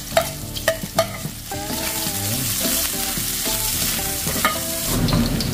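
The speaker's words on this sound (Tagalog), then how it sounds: "Gisa na natin ating bawang sibuyas at luya." Garlic, onion and ginger hitting hot leftover frying oil, giving a loud continuous sizzle opened by a few sharp clinks of a utensil, then stirring scrapes over the steady hiss.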